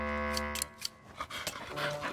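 Cartoon dogs in the Mr Bean animated series pant in quick, breathy bursts, close and fairly quiet, after a held musical tone fades out.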